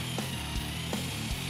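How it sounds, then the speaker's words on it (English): A power drill bores holes through a thick steel bracket for a tow-truck wrecker build, producing a loud, sustained grinding whine with a few rhythmic clunks and no speech. "the next step was to drill the many holes needed to bolt the bracket to the frame and the wrecker unit."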